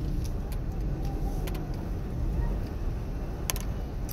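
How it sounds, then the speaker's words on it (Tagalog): Road traffic passes near a church and cemetery on a busy Sunday, a steady low rumble of cars with occasional sharp ticks and clicks, heard close and continuous. "Hanggang doon ang traffic"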